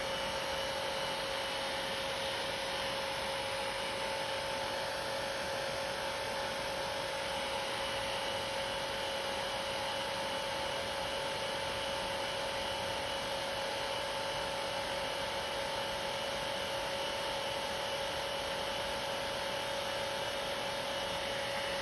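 A nail dryer runs continuously over lacquer nail polish, giving a steady, even whir with a constant tone, close and unchanging throughout with no talk.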